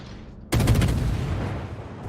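A heavy gun blast from a Z-52 Tier 10 German destroyer in World of Warships, one sharp loud report that rolls into a long rumbling decay.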